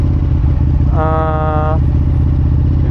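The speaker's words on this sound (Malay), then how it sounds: "Hari ni aku naik Ducati Ducati yo 959." A Ducati 959 Panigale's 955cc V2 engine runs close by with a deep, pulsing idle throb, while a brief tonal whine rises and fades partway through.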